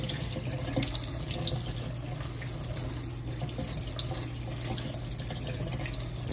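Water runs steadily from a kitchen tap during washing, a continuous close splashing stream with no talk over it.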